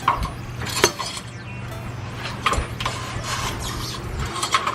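Metal parts of a 2016 Toyota 4Runner rear shock mount being pried apart after the washer and rubber bushing are off, giving close mechanical clunks and ratcheting scrapes with a few sharper knocks over a steady low hum.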